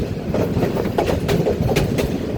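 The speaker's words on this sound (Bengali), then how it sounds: "কীভাবে ট্রেন ইঞ্জিন লাইন একটা থেকে আরেকটা চলে যায়" A train engine crossing from one rail line to another near Jamalpur railway station, a loud continuous rumble with rhythmic clickety-clack wheel beats over the joints and points, with no talk.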